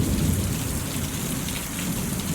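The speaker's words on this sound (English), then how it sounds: "That water cleansed the earth, as this thunderstorm is cleansing us right now." Steady heavy rain pours down during a thunderstorm, a dense continuous hiss with low rumbling thunder underneath, loud and unbroken throughout with no voices.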